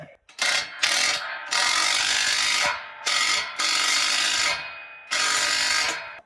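A ratchet strainer tightens fence wire on a welded fence panel, delivering several loud, close bursts of rapid clicking ratchet action separated by short pauses.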